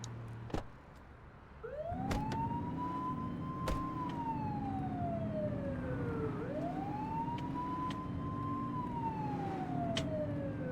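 Police car siren in a video game wails in long rising and falling sweeps over a steady engine drone, loud and close, with no talk over it.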